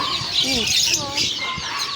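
A turkey clucks and gobbles nearby amid a noisy farmyard, with people talking in the background.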